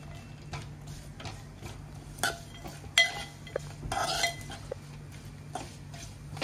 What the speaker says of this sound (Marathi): खोबरं मस्त खमंग भाजून घ्यायचं आपल्या तेलामध्ये